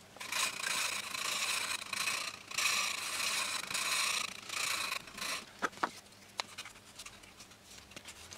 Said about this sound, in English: Now we can use some fish grit sandpaper